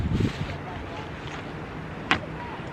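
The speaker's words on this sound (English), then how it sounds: "it's also a bit windy" Wind buffets an outdoor microphone, a steady broadband rush with low gusty rumble at the start and a brief sharp knock near the end.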